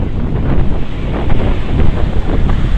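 Ocean waves break at a Hawaii beach, a steady broadband wash of surf with heavy wind buffeting the microphone, loud and continuous with no talk.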